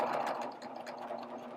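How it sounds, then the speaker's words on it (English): A sewing machine stitches fabric at a longer stitch length, running with a steady, close mechanical whir and rapid needle rhythm throughout. "I'm going to start stitching"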